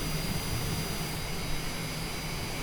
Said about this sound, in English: Wait for those engines to come up.